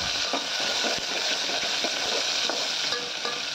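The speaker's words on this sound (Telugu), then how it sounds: "ఉల్లిగడ్డలు వేసుకొని ఈ నూనెలా మంచిగా గోలాలి" Onions fry in hot oil with a steady, close sizzle, and faint stirring scrapes and taps sound through it.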